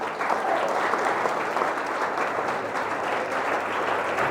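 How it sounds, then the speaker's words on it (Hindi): Children clap their hands together at a school yoga workshop, a continuous lively round of applause with a faint murmur of voices underneath, steady throughout. "ताली बजाओ।"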